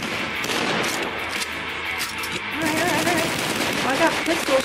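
Gunfire in the video game DUSK pops in rapid, repeated shots over dense game noise, with a voice talking.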